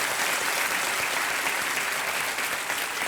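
A studio audience on the Indian quiz show Kaun Banega Crorepati breaks into steady, dense applause to welcome contestants, loud and continuous throughout with no voices over it.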